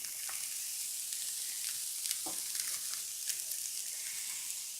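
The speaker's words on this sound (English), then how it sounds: "I'm going to add a little bit more oil to my pan before I add the onions." Onions frying in oil in a pan, a steady soft sizzle with scattered crackles and light stirring scrapes, close and unaccompanied by talk.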